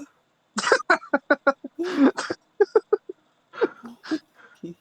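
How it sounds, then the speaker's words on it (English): A rapid series of harsh, raspy coughs, forceful and close, breaking into a rough extended hack with short gasps between bursts. "that is such a visceral cough"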